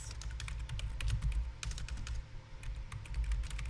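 Steady typing on a computer keyboard, quick close clicks tapping out words in bursts with brief pauses, no voice over it.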